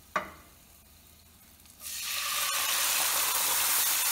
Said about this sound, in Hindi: ये अब जो ये दही और मसाले हैं इन सबको इस तेल में डाल देते हैं।